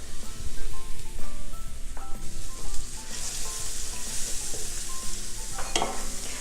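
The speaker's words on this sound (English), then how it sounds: "So mix the onion around in the oil to get it coated" Finely diced red onion sizzling loudly in olive oil in a stock pot, a dense continuous crackle and hiss with stirring scrapes and a few sharper knocks, close by and without voices.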